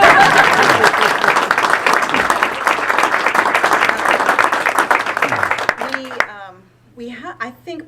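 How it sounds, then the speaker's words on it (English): An audience at a Clinton County community meeting breaks into sustained clapping that fades out, followed by a speaker resuming talk. "It's okay to clap"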